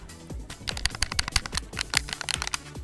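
Clicky buttons on a custom game controller pressed in a quick, uneven series of sharp close clicks, loud and distinct against quiet surroundings.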